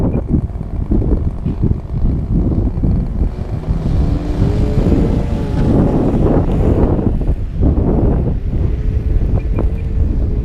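Glow-engined model airplane taking off, a steady buzzing motor drone under heavy wind buffeting on the microphone, with rising and falling engine pitch as it climbs away.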